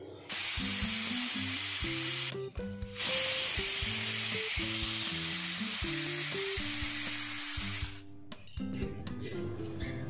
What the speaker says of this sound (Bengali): কুকারের ঢাকনাটা বন্ধ করে দেব এবং দুটো সিটি পড়ে যাওয়া পর্যন্ত অপেক্ষা করব